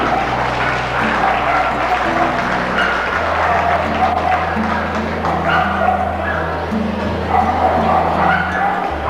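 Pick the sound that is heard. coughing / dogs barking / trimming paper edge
dogs barking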